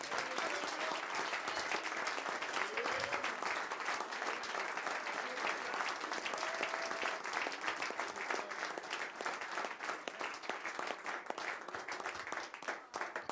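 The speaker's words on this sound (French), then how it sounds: "Donnez une acclamation au Seigneur." A church congregation applauds and cheers for the Lord, with dense continuous clapping and crowd noise that holds steady throughout.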